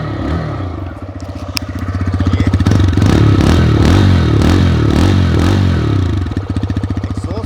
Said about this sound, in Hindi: ये है 125 सीसी इंजन। साउंड सुन लेते हैं।